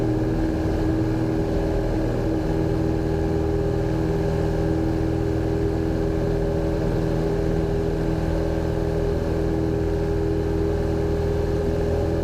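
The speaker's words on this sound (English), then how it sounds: "When the airplane is ready to fly, off she goes." A small airplane's steady, loud engine drone with a constant low hum, rising slightly as it powers up for takeoff, with no voices present.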